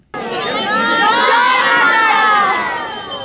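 Dense crowd of pilgrims packed into a queue at Tarapith temple, a loud continuous roar of many overlapping voices and children's shouts filling the space from start to finish.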